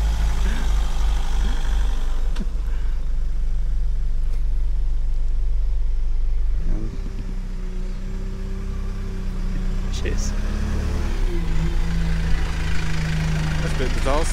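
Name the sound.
bus driving down a narrow country road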